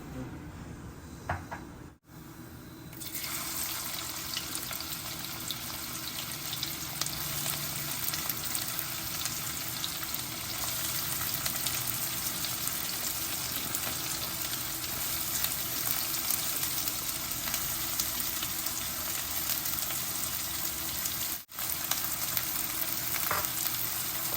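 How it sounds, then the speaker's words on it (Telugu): Cumin seeds crackle in hot ghee for a restaurant-style palak paneer, a steady close sizzle lasting over twenty seconds with faint kitchen clatter and no talking. "ముందు మనము జీలకర్ర తాలింపు వేద్దాం"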